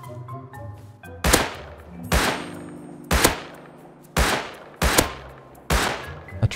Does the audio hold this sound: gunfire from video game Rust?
yes